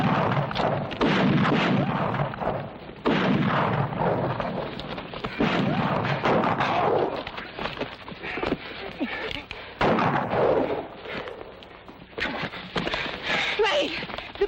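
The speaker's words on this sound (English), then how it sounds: "Keep firing!" Gunfire crackles through a chaotic Wild West action film battle, with dense, continuous bursts of shots and booms filling the scene while voices shout over the din.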